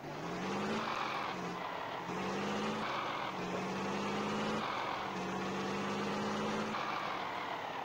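Truck engine in Truck Simulator USA revving and accelerating through repeated gear changes, a loud droning roar whose pitch climbs, drops and climbs again in several cycles, with no talking.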